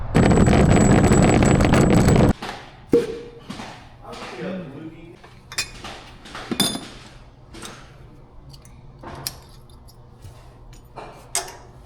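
A cart loaded with shock absorbers rolls indoors, giving a loud burst of rumbling at first, then scattered clinks, thumps and knocks of metal parts, with people talking between the impacts.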